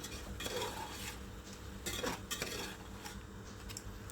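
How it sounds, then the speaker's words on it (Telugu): Marinated mutton is being stirred with fried onions in a pot for goat biryani. A spoon scrapes and clinks against the metal in a few distinct bursts over a low sizzle, with no voices. "మనం మ్యారినేట్ చేసి పెట్టుకున్న మటన్ కూడా వేసేసుకొని ఒకసారి బాగా కలుపుకుందాం"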